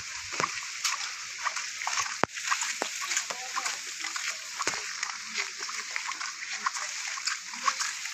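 Floodwater over a village road beside a mosque in Begumganj, Noakhali, splashing and sloshing continuously as someone wades through, with broadband wet spatter throughout and a few sharper splashes, close and steady.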